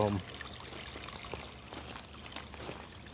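Water in a small creek holding little fish trickles and pours steadily, a faint, continuous splashing stream with small bright spatters over a soft background wash.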